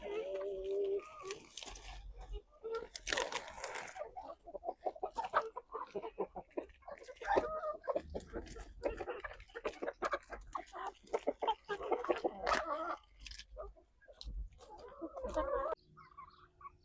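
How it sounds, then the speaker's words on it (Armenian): Backyard chickens and pigeons being fed leaves cluck and coo close by, with repeated irregular calls and fluttering over quiet surroundings. "Այս ընթացքում էլ իհարկե տերևներով կերակրում ենք մեր թռչուններին"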